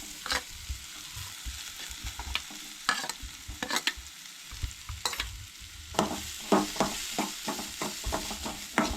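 Chopped onion sautéing in melted butter in a pan for pav bhaji, a steady close sizzle with scraping stirs and spatula knocks scattered throughout, no voices.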